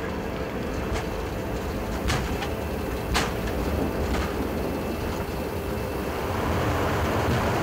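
Airbus jet engines spool at takeoff thrust on a night departure from Johannesburg, a steady broad roar heard from the cockpit with a few brief clicks and rising slightly toward the end.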